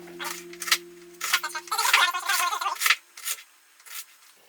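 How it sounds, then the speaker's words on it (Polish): A knife dices an onion into small cubes on a cutting board for an omelette, giving a run of quick, close rasping chops and rubbing strokes with brief pauses between bursts. "Dobra, i teraz sobie tutaj tniemy."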